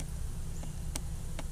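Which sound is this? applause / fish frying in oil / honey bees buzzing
honey bees buzzing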